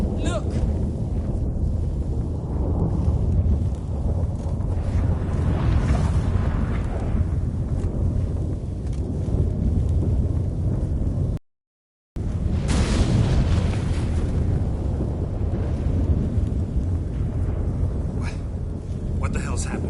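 A stormy gate-opening scene in The Witcher 3 video game: a continuous, loud roar of thunder and wind-like rumble with booming swells, briefly cut to silence near the middle, with dialogue mixed underneath.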